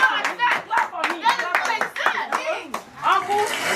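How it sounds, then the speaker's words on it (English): Hands clapping at a 12th birthday party, sharp irregular claps mixed with children's and adults' voices talking over them at close range. "Can you give him a round of applause? Clap for me."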